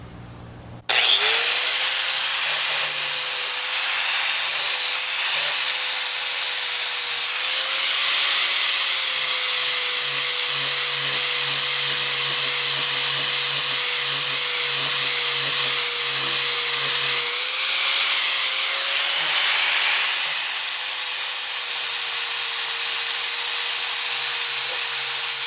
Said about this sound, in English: I've got a flap disc that's about worn out, but it should do the trick.